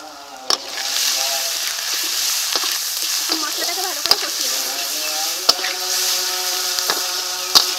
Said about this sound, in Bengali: মশলাটাকে খুব সুন্দর করে কষিয়ে নিয়েছি